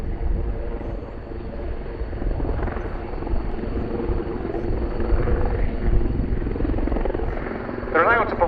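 Royal Navy Wildcat helicopters thrumming steadily nearby in a display at RIAT 2025, a continuous rotor and engine roar holding level throughout, with a faint voice near the end.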